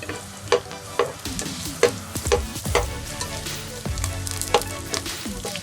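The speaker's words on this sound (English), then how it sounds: "So we're gonna begin by first toasting some of our garlic" Garlic toasting in oil in a pan for lugaw, crackling and sizzling close up, broken by repeated sharp clinks and scrapes of a utensil stirring, no voices.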